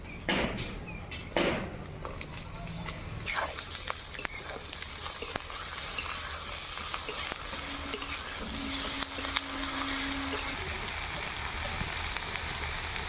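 Cut eggplant pieces, with chopped chilli and onion, fry in hot oil in a fenugreek-leaf dish. A close, dense sizzle swells after a few seconds and keeps going, with sharp clicks of stirring.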